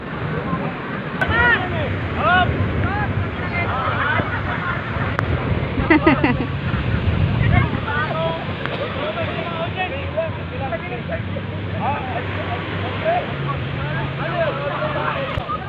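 Strong wind roars and buffets the microphone at a beach in San Fabian, Pangasinan, while people talk and shout nearby during a volleyball game.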